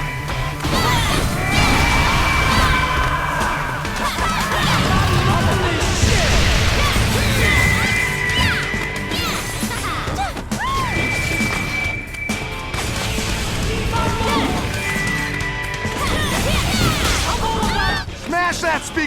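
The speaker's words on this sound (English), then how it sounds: "Smash that speaker stand!" A speaker stand gets smashed in the hack-and-slash game Lollipop Chainsaw: repeated loud crashes and thwacks amid dense game effects and music, with voices talking over the action.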